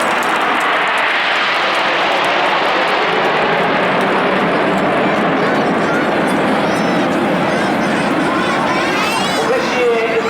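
Red Arrows jets passing overhead in Concorde formation at a Scarborough Armed Forces Day display, a loud, sustained roaring rush that swells and fades, with crowd chatter and a commentator's voice running underneath.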